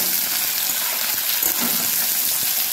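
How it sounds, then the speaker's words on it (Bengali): Washed vegetables hit hot oil and are stirred, giving a loud, dense, continuous sizzling hiss close by, like water spattering, with faint scraping and no talk. "সমস্ত সবজিগুলো তেলের উপরে দিয়ে দিচ্ছি। সবজিগুলো একবার নাড়াচাড়া করে দিচ্ছি।"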